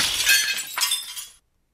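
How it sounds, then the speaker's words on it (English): The glass windows of two auto coaches shatter as a diesel train engine crashes into them, making one loud, bright, crackling burst with tinkling fragments that lasts just over a second and then cuts to silence. "The shattering of windows cut through the air as Diesel bashed into a set of 2 auto coaches"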